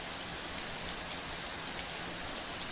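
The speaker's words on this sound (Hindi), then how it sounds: "बारिश फिर से मधुर होकर आई। बूंदें धीरे धीरे बरसने लगी।" Gentle rain falling steadily, a dense, even hiss of drops throughout with no voices.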